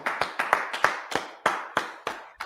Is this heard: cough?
no